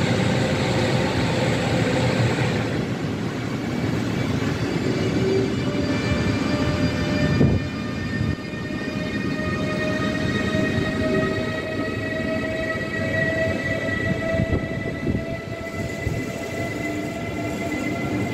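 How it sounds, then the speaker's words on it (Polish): An Intercity Zephyr train pulls in at Kraków Główny station, its steady rolling rumble and long sustained tonal whine running continuously and fairly loud throughout, with no talk. "Intercity Zephyr z Krakowa Głównego do Kołobrzegu."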